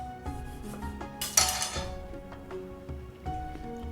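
Ginger, tamari soy sauce and sesame seeds being mixed in a bowl, with soft clinks and scrapes of a utensil against the dish and one brief louder clatter, close and quiet, no voices.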